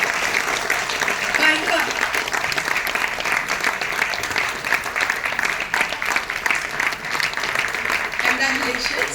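An audience at a cinema film screening applauds for the filmmaker, with continuous clapping that carries through the whole stretch, while someone briefly speaks over it.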